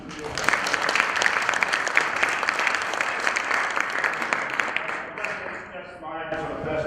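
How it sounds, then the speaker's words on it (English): Applause from a conference audience for presenters at a session on faecal sludge desludging and transport, a dense steady clatter of many hands that thins toward the end, with some talk mixed in. "nice big round of applause,"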